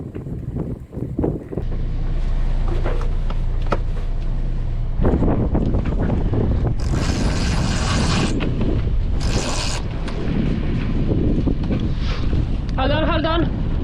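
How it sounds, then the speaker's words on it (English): A sailboat's mainsail is hoisted while heading into the wind on the Mediterranean. Strong wind buffets the microphone throughout, with bursts of flapping sailcloth and rattling rigging, and a short whirring mechanical run near the end. "Now we are into the wind, so it's a perfect time to get our mainsail up."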